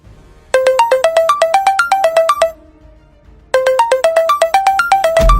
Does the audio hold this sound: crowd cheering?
no